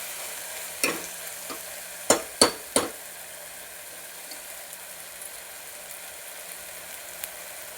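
Onion frying in a pan for a Maharashtrian black pea curry, a faint, quiet sizzle punctuated by several sharp spatula knocks and scrapes clustered near the middle, then mostly low hiss.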